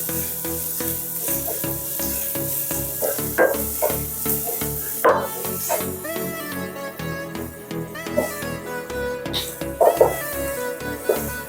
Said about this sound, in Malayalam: നമ്മൾ സവോള വാടിയതിന് ശേഷമാണ്, ഏകദേശം വാടി വരുമ്പോഴാട്ടോ ഇഞ്ചി വെളുത്തുള്ളി ഇടുന്നത്.